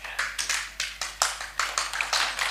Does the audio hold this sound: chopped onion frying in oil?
no